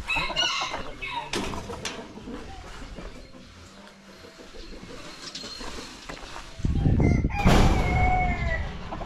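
A rooster crows loudly and close by near the start. Another long crow rises near the end. Clucking fowl and people talking fill the gaps.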